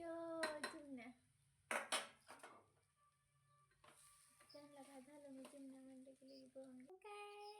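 Grated potato filling for samosas stirred in a pan of hot tempering oil, with spoon scrapes and clinks against the metal, faint sizzling, and a few soft spoken words in between.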